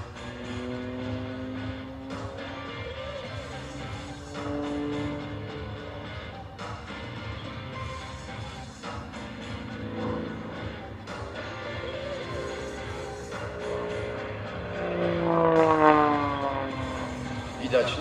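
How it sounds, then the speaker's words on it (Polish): An Extra single-seat aerobatic propeller plane performs at the Świdnik air show, its engine droning steadily and changing pitch as it maneuvers, rising in loudness near the end, under continuous commentary. "To Ekstra to jednomiejscowy, wyczynowy absolutnie samolot akrobacyjny."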